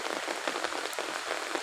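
Summer rain falls steadily outdoors, a dense, even hiss of drops striking surfaces with no pause across the whole stretch.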